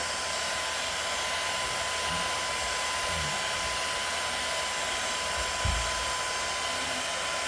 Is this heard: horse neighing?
no